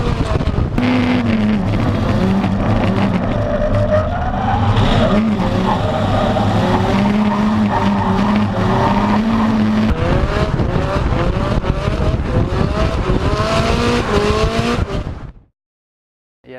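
A drift-spec Nissan S15 competition car skids hard, its engine revving and tyres squealing loudly and continuously up close, with rising and falling engine pitch throughout before cutting out near the end.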